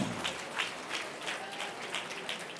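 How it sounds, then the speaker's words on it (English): Quiet round of applause from a gala audience at a fundraising dinner, soft scattered clapping heard from a distance in a steady pattern. "Give yourselves a round of applause."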